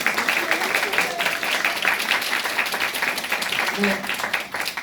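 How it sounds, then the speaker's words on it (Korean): Theatre audience applauding four musical actors at a final-performance curtain call, steady sustained clapping from a large crowd throughout. "다시 한번 오늘 마지막 공연을 한 우리 네 배우님들에게 큰 박수 한번 부탁드립니다"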